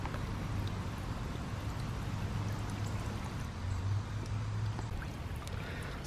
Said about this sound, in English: it's back to shooting a nice stream of water